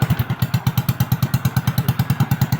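Kickstarted motorcycle with a broken push-button starter and a cut exhaust pipe, idling loud and close with fast, even, thumping exhaust pulses throughout.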